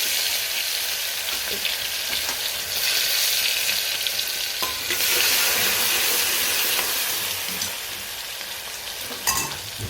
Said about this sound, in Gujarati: હવે નાખીએ ટામેટા, લીલા મરચાં અને લસણ